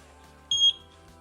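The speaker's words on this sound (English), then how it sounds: "Press and hold setup until you hear a beep." A single high electronic beep from a Eufy 2K indoor security camera during setup, clear and fairly close, lasting under a second against quiet room background.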